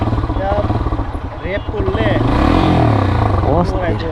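A motorcycle engine runs smoothly and steadily close by on a road near Nayahat, Bayazid, Chattogram, with people talking loudly over the constant low rumble.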